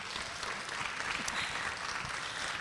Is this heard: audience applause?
yes